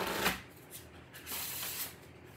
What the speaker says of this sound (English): So let me get you a couple of spellcasting oracle cards.